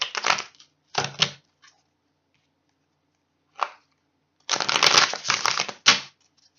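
Several bursts of rapid riffling tarot card shuffling, close and crisp, separated by short pauses, with a longer shuffle near the end.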